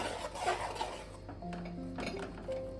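A spoon scrapes and clinks against a pan while milk mixed with powdered milk is stirred for a sandesh, making faint, irregular metallic rubbing and tapping sounds close by, with no talk.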